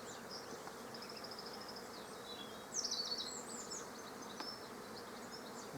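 A honeybee colony buzzes at an outdoor beehive, a faint continuous hum with individual bees droning past close by, the buzz briefly growing louder midway.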